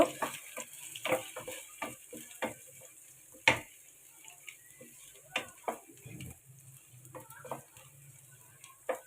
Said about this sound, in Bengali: এটাকে আমি একটু ভালো করে ফ্রাই করে নিব